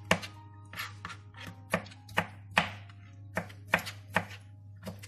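A knife chops tomatoes into small pieces on a board for tomato soup, about a dozen sharp, close knocks in an uneven rhythm over a steady low hum, with no talking.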